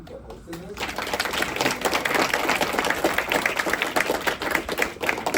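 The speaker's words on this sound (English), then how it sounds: "I want you to join me in a big round of applause for Google DC for hosting us." Audience applause fills a room at a DC public schools math competition hosted at Google DC, a dense, steady wash of many clapping hands after a brief quiet start, with scattered voices mixed in.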